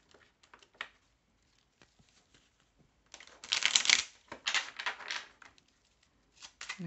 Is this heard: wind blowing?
no